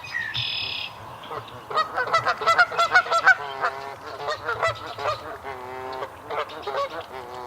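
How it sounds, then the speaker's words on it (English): Canada geese fighting each other honk repeatedly in a loud, squabbling chorus, with overlapping calls close by and some higher chirps mixed in. "the Canada geese are fighting each other"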